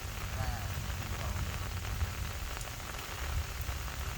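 Steady rain from a rainstorm pattering on a surface during rice transplanting, a continuous dense hiss with low rumbling background throughout, no voices.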